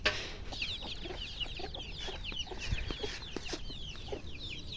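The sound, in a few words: rooster crowing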